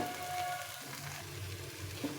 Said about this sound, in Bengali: তো আস্তে আস্তে এটা একদিকে ভাজা হলে এটা উল্টে পাল্টে ভেজে নিতে হবে।